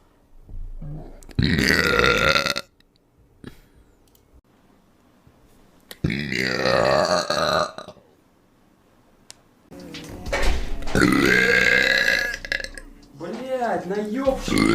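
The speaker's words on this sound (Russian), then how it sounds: "Водичку только пью с утра, уже рыгаю." A woman lets out long, loud, drawn-out burps in three main bursts, with some voiced talk mixed in near the end, all close and clear.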